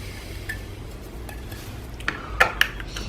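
Lid of a 35mm film bulk loader pressed on, a couple of sharp plastic clicks as it snaps into place, near and fairly soft over a quiet room.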